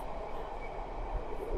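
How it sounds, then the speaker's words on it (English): Steady interior rumble of a 1923 Metropolitan heritage electric locomotive train running on the London Underground, a continuous low drone with faint rail noise, close and moderately loud, no voices. "This locomotive was built in 1923, part of a class of 20 of these electric locos"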